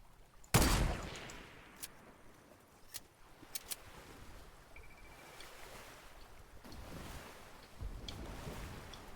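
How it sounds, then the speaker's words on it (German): Sharp gunshots crack out in a Fortnite match, one loud report followed by a few scattered shots, over a quiet background of water and ambient noise. "Ich werde beschossen!"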